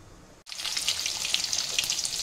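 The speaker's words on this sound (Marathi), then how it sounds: "मिरची, उडदाची डाळ आणि शेंगदाणे फ्राय करून घेते" Chillies, urad dal and peanuts hit hot oil in a kadhai: after a brief quiet moment a loud, dense sizzle bursts up and keeps crackling steadily, close by.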